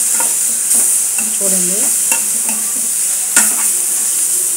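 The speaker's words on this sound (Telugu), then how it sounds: "ఉడికించిన ఆలుగడ్డలు, మట్టికాయలు ఇవన్నీ ఈ మసాలాలో వేగిపోతాయి అన్నమాట" Boiled potatoes and other vegetables frying in masala in a pan, with a steady sizzle broken by several sharp stirring scrapes and clinks; a voice speaks briefly over the cooking.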